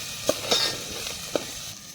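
Potato filling for aloo paratha fries in a pan as it is stirred, a steady close sizzle broken by a few sharp scraping clicks of the spoon against the pan, with no talking.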